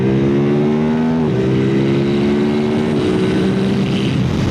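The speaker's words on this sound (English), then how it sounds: "Really nice little intake honk from the R7." Yamaha R7 motorcycle with its tuned CP2 twin engine accelerating on an open road, a loud close intake honk with rising engine tone stepping through gear changes under heavy wind rush.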